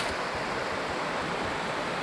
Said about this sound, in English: I just popped out of the woods to this big river.